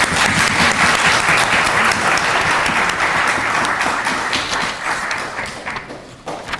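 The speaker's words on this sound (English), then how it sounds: "Let's offer a round of applause for all who have made this Sudanese Cultural Day possible." Dense, sustained applause from a hall audience at a Sudanese cultural day celebration, loud and steady with many hands clapping, gradually thinning toward the end.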